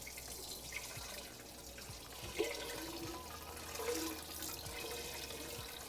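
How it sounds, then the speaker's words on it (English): Tap water runs steadily while a pot is rinsed out in a kitchen sink, a soft continuous splashing wash with a few faint knocks and clinks of the pot. "Just gonna rinse this out, give it a little wipe"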